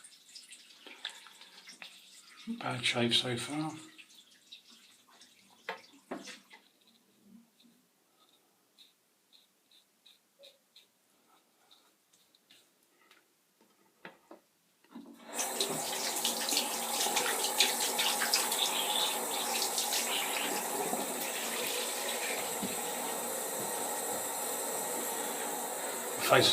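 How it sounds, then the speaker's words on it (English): A bathroom tap runs into a sink to refresh shaving water, starting after a quiet stretch and continuing as a steady, close, full rush of water; earlier there are brief splashes and a short spoken remark. "Just get rid of this water, get some fresh for the third pass."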